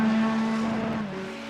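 A race car engine drones at a steady high pitch during an endurance race, its tone sliding slightly lower and fading a little as it passes.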